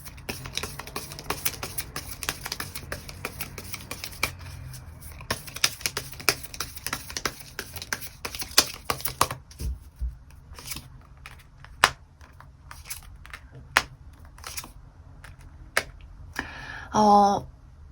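Tarot cards being shuffled and drawn, heard as a steady run of crisp, close papery flicks and snaps that thin out into scattered single taps, with a short voiced sound at the very end.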